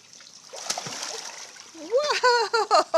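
A child jumps into a swimming pool, making a bright, noisy splash with churning water for about a second and a half near the start. An adult voice then speaks up close.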